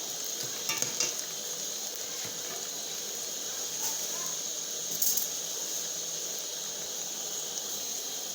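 Onions and potatoes frying in a pan for a home-style chicken curry gravy, a steady close sizzle throughout with a few faint clinks and stirring scrapes, no talking.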